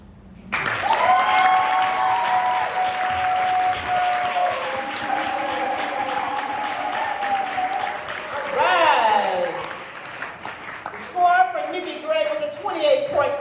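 Audience at a spring poetry slam in Atlanta applauds a poet after a round-one piece, a dense, steady wash of clapping with cheers and whoops rising over it, swelling again near the end.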